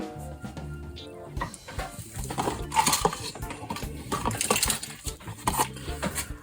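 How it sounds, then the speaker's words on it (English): A screwdriver works the motherboard screws out of a mid-2015 MacBook Pro Retina, giving small metallic clicks, scrapes and light taps in uneven bursts, close by and fairly quiet. "I'm going to remove the motherboard screws."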